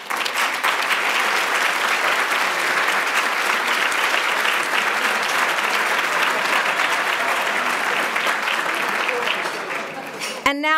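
Sustained, dense applause from an audience at a class gift presentation for the 1991 class reunion, honoring class life members; steady and full for about ten seconds, tapering slightly near the end.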